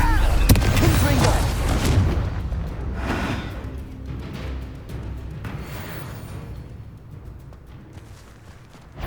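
A fire-blast spell bursts in the Hogwarts Legacy video game as a heavy booming explosion with a rumbling tail. Scattered thuds and game sounds follow as it fades, and a character's voice is heard.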